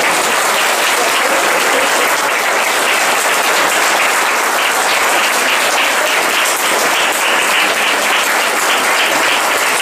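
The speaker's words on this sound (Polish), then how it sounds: "to teraz będą te gorące brawa dla Państwa" Warm, sustained applause from the audience at the 48th International Pentel Art Competition ceremony, a loud, dense wall of clapping that continues evenly for nearly ten seconds with no voices over it.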